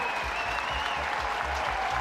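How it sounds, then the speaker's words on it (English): A baseball crowd at a Texas versus Tennessee game keeps up steady, loud applause and cheering as a pitcher walks off the mound, with a commentator talking over the noise. "You think he's going to get a standing ovation when he walks off that mound?"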